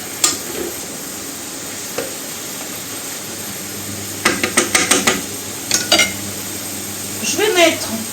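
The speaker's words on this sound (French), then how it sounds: "On va mélanger." Seafood stirred in a pan for a seafood gratin: short clusters of scraping, clattering stirs break over a steady, soft frying hiss, with quiet stretches between bursts.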